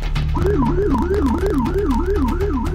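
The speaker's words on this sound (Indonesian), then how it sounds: "Menggunakan pengeras suara dan nyala sirine" A loud police siren wails, sweeping up and down in rapid repeated cycles, close by, over a steady low engine rumble from a road patrol vehicle.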